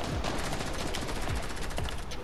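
Gunshots in the video game Fortnite crackle in a rapid, fairly quiet string of shots over a couple of seconds, sounding somewhat distant in the mix.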